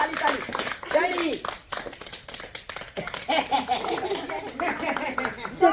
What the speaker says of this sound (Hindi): बिदाई के ताली।